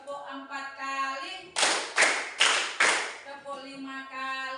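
Children in a classroom clap along with their teacher, four sharp, evenly spaced claps ringing out between stretches of speaking voice.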